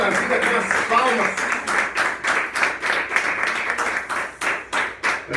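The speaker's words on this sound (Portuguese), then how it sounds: "E você recebe essa vida com as palmas." A church congregation claps in a steady rhythm at an evening service, loud and close, while a voice briefly talks over the start before the clapping carries on alone.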